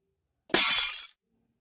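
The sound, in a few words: glass popping and breaking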